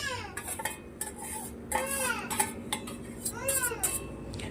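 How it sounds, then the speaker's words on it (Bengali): A metal utensil scrapes and clinks against a pan while chicken is stirred with ginger garlic paste, giving repeated close scraping strokes in an uneven rhythm with a faint sizzle beneath. "আদা রসুনটাও ভালো করে চিকেনের সঙ্গে মিশিয়ে নেব।"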